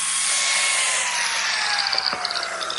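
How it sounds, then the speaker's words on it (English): Biscuit joiner cutting slots into a wooden miter joint, a close, high-pitched motor whine that spins down, followed by a few short clicks and knocks. "Now I'll strengthen this joint with biscuits."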